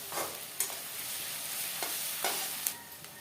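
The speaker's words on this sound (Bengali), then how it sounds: "পেঁয়াজটাকে আমি খুব ভালো করে সময় নিয়ে আস্তে আস্তে লাড়ি ছাড়ি ভাজি নেব" Onions stirred and fried in a pan for a mutton curry, a steady sizzle broken by a few sharp scraping strokes of the spoon, close and fairly loud with no voices.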